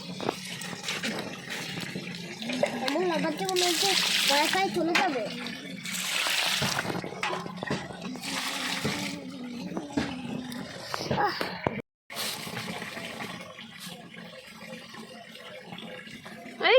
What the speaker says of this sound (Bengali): জল ঢালো